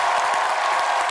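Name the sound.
studio audience applause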